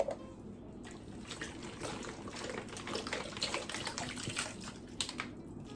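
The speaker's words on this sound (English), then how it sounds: "And then we're gonna add some water." Water pours steadily into a container of pupusa ingredients, a continuous splashing trickle close by with no talking.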